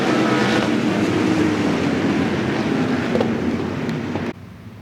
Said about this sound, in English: Allison Journey going to get on the gas, exiting turn number 4